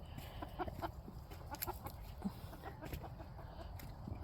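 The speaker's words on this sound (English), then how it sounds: "we got the blue silky rooster there going in to roost" Chickens near a coop at roosting time, including a blue silkie rooster, with soft scattered clucks and small calls over a quiet low background rumble.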